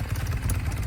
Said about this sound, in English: after years of neglect, this classic motorcycle was back in action